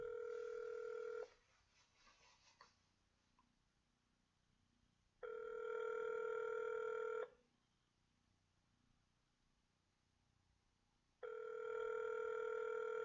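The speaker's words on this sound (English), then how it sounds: "Well, it's ringing." A telephone rings back on an outgoing call: two long, steady ring tones a few seconds apart with quiet line hiss between them, loud and close, no talking.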